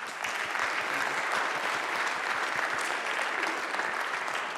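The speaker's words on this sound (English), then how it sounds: "so give yourself a round of applause" Sustained, dense applause from the audience at the end of a talk at the BSides London 2014 security conference, loud and even throughout with no speech over it.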